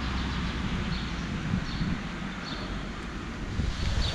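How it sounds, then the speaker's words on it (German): Strong, steady wind buffets the microphone outdoors on a cycling trip along the Elbe, a loud continuous low rumble with slight gusts and no talking. "Also das Wetter ist sehr windig und auch ein bisschen bedeckt."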